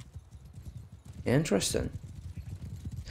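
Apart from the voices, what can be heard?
horses galloping in video game Mount and Blade 2 Bannerlord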